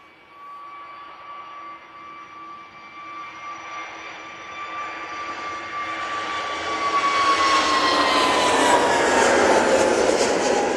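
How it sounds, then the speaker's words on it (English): An EasyJet airliner bound for Geneva roars down the runway on its takeoff roll at Manchester Airport, a steady jet whine with rising engine tones that swells louder and fuller toward the end, with no talk over it. "EasyJet now on the roll. So this is off to Geneva."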